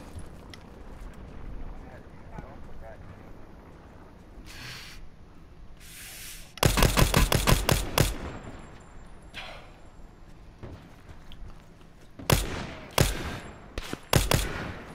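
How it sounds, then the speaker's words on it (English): Gunfire in a multiplayer shooter game, with bursts of shots from a hillside: scattered loud cracks and short rapid volleys, the heaviest cluster in the middle and more near the end, over quieter background game noise. "Somebody shooting at me from the hill."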